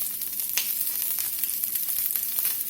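Salmon fillets searing in a hot pan, a steady soft sizzle and crackle with occasional sharper pops, continuous and fairly quiet with no talking.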